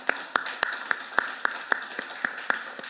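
A church congregation claps in a steady, even rhythm of about four claps a second, each one sharp and slightly distant under a faint room hum, with no speech over it.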